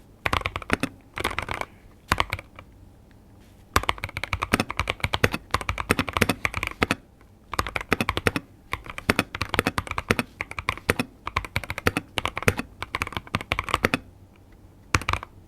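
Bursts of crisp mechanical key clacks in quick runs, broken by short pauses, loud and close with no talking, typed on an Epomaker TH80-X keyboard with flamingo switches.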